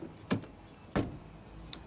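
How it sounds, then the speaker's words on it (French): Car doors on a 2027 Mercedes CLA shut with two distinct muffled thuds about half a second apart, followed by a faint click, in a quiet setting. "À l'intérieur, écoutez la porte se fermer."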